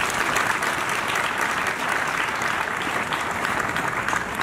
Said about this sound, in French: Je voudrais donc l'applaudir